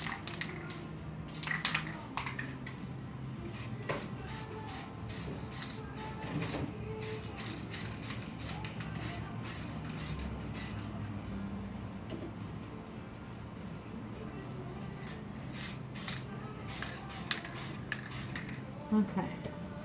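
A white coat of sublimation glaze sprayed onto a mug, coming as a long series of short hissing bursts in an uneven rhythm, fairly close.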